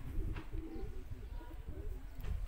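A pigeon in a play-pigeon coop gives soft, low, repeated coos, close and quiet, with faint rustling around it.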